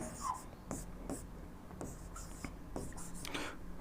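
Pen or chalk writing out answer options for a coordinate geometry problem, a series of short scratchy strokes and taps in irregular rhythm, close and moderately quiet with faint breathing between strokes.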